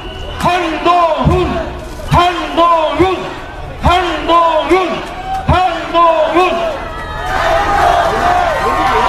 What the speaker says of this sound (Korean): 여러분 한 번 더 크게 환호해 주시죠